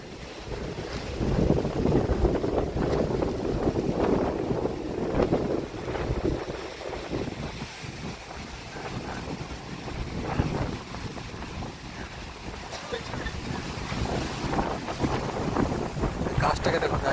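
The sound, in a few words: strong wind during Cyclone Remal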